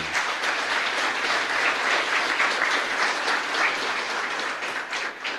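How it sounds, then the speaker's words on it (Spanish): Congregation at a Catholic Mass in a chapel giving sustained applause for teachers and workers, a dense, even wash of many hands clapping that continues steadily and tapers slightly at the end. "a todos los maestros que están aquí presentes y a todos los trabajadores se merece un gran aplauso"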